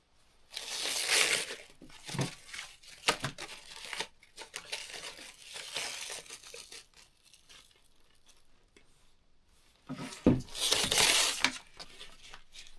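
Plastic backing is peeled off the adhesive side of a ski climbing skin cut from a downhill skin for a classic cross-country ski, in bursts of close crinkling and tearing separated by quiet pauses.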